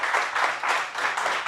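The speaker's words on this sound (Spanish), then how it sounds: "Un aplauso para Diego." Audience applause for a presenter at an investment talk, a short burst of steady clapping from a modest group at moderate volume with no voices.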